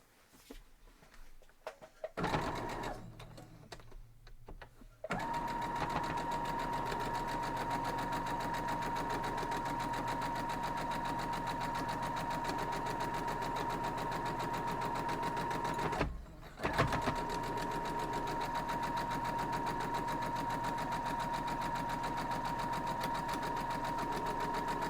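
A sewing machine stitches quilt block pieces in one steady, fast run for about twenty seconds, breaking off briefly in the middle before starting again, after a few quiet clicks and handling noises.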